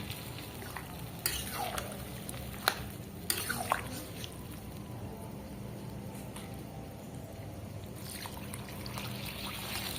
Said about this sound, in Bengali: এবার বেশ পরিমাণ একটু জল দিয়ে দিচ্ছি